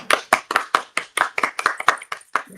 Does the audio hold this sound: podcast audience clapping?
yes